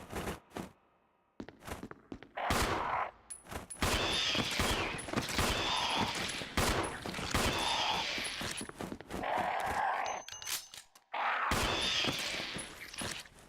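Gunfire bursts in a Resident Evil video game, loud repeated volleys of shots clustered in several stretches with brief pauses between them, filling most of the clip.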